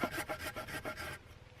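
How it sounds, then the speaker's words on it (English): A hand saw cuts a notch into wood for a bushcraft chair, about six quick rasping back-and-forth strokes at close range before the sawing stops. "for those of you guys wondering how I made this notch, I'm sawing down one spot"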